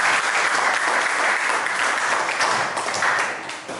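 Loud, sustained applause from a class or seminar audience at a health institute, many hands clapping evenly for several seconds before easing off slightly at the end.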